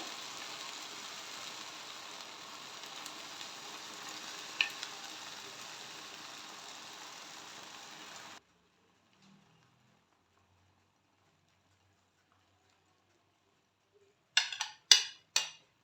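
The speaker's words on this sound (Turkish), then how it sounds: "böyle tatlımızın üzerine gezdirip şerbetimizi ilave edelim" Syrup poured over a tray of freshly baked crispy Turkish holiday dessert, a steady soft sizzling hiss lasting several seconds and then stopping, followed by silence and a few brief clinks near the end.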